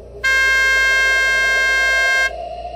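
A car horn blares in one long, steady, loud tone lasting about two seconds against a quiet night road background, with no talking.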